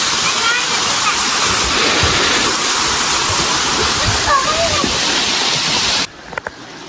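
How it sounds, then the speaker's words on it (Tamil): A stream flows slowly near a hidden waterfall in Ooty, making a loud, steady rush of water that fills the scene for about six seconds, then drops away abruptly. "தண்ணியெல்லாம் அப்படியே மெதுவாக போயிட்டுருக்கு"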